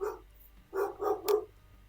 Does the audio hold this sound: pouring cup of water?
no